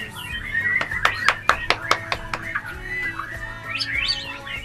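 White-rumped shama (murai batu) in a breeding setup sings a run of sharp, rapid chirps and whistled phrases, fairly close and clear, with a brief trill near the end over low background murmur.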